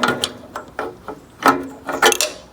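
A ratchet wrench clicks in uneven bursts against the stuck shield on a John Deere 317 tractor, with short metallic ratcheting strokes and scraping close by.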